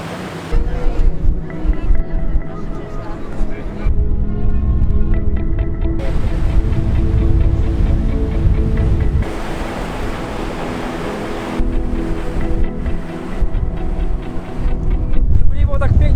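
Ferry sailing on the ocean off Iceland toward the Vestmannaeyjar islands, a loud constant rush of engine, wind and water across the deck, with gusts buffeting the microphone and occasional music passages.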